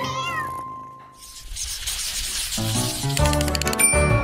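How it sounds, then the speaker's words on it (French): A pet cat meows in a cartoon-style cooking scene, rising and falling mews up front, followed by a busy mix of music and effects. "mon petit chat aime beaucoup se promener"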